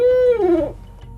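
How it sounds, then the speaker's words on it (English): A barred owl hoots nearby, a loud, long, tonal call that holds steady and then slides downward in pitch before fading, with a faint low background and no talk. "So out in the wild, barred owls will kind of go, who cooks for you?"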